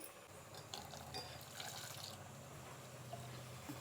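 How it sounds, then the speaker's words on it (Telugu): Water is poured into a pot of payasam made with moong dal and poppy seeds, a soft, steady trickle that runs faintly and continuously from start to end. "ఇంకా మనం నీళ్ళు వేసుకోవాలి."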